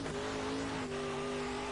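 A race car in a racing game runs steadily, its engine holding a buzzy, constant tone under throttle with a brief chirp as the brake is dabbed before it returns to the gas, fairly quiet and with no talking.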